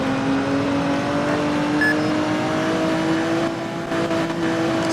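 Steady engine drone of a video game car driven at full throttle in a police chase, a continuous sustained tone with a slight rising pitch, loud and unbroken, with no talk over it.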